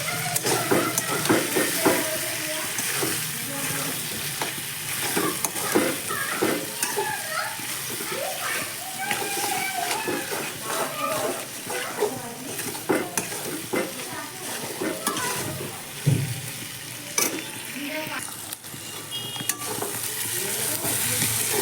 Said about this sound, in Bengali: অনেক ফুটছে বট ভাজতে আমার ভয় লাগে